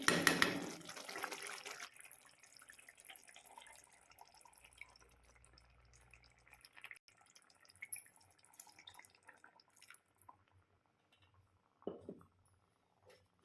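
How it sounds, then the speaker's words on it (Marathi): Water pours into a kitchen mixer jar in a short rushing splash, followed by faint drips and light clinks in a quiet room. "यामध्ये थोडस पाणी ओतून घेणार आहे"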